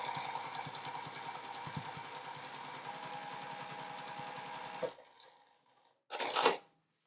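A home sewing machine runs in a rapid, steady stitching rhythm as quilt block pieces feed through, then stops, followed by a brief rustle of fabric.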